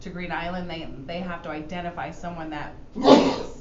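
During a village meeting, someone speaks steadily, then a single sharp sneeze bursts out near the end. The sneeze is close and noticeably louder than the speech.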